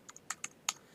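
Several keystrokes on a computer keyboard tap out in an uneven burst, each a crisp close click, with quiet gaps between them.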